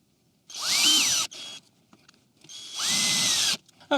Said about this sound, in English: I'm just going to pre-drill a hole for the wires as well.